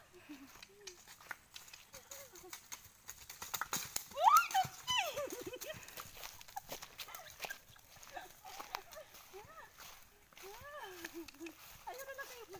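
A horse being ridden at a run, its hooves clip-clopping in a quick irregular patter while people talk and exclaim over it throughout, with a brief whinny-like cry in the middle.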